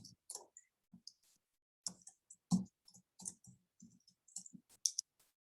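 Computer keyboard typing in quick scattered bursts of soft close clicks with short pauses, faint and without speech.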